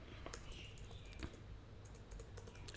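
Code being typed on a computer keyboard, a quick, close patter of light key clicks in an uneven rhythm, with no talking.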